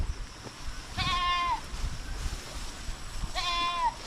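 A tethered goat bleats twice, a wavering nasal cry about two seconds apart, over a quiet outdoor background.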